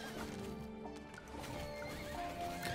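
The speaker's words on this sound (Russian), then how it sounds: "О, лошади. Лошадки." Horses in the video game Dungeons 4 neigh and whinny over clip-clopping hooves, set against a busy game soundscape at a moderate, fairly distant level.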